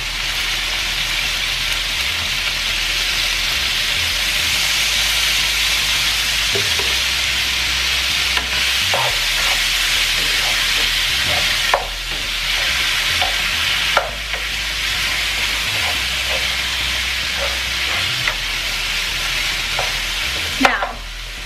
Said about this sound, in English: Now, while those cook and fry for a bit